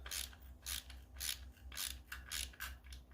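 A ratchet wrench drives screws into a plastic side marker light housing on a Ford S197 Mustang GT, giving a steady series of raspy ratcheting clicks in regular back-and-forth strokes, close and alone.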